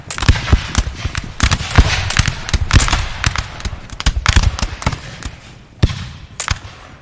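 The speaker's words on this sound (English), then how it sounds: "Got some infantry here opening fire." Line infantry in Napoleon: Total War let off a ragged musket volley in a winter battle, many sharp cracking shots overlapping in quick irregular bursts, loud and close, with scattered later shots and no talk.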